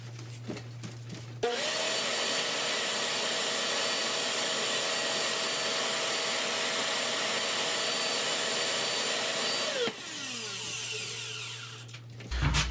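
Shop vac sucking air through a straw sealed inside a rifle barrel during barrel cleaning, a loud steady whining roar running about eight seconds before dropping off, with quieter motor hum before and after.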